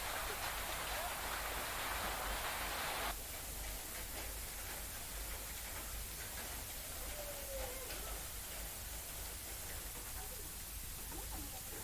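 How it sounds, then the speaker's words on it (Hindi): Rain with hail pours down in a storm with strong wind, a dense, steady hiss of drops that thins slightly after a few seconds but keeps going throughout. "ओलावृष्टि और बारिश के साथ साथ तेज अंधड़ का दौर भी शुरू हो गया।"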